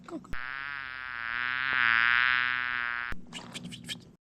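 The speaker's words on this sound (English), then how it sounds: "Go away, little bee." A bee buzzes close by in a steady, droning hum that swells and fades over a few seconds, with a few faint knocks at either end and no talk.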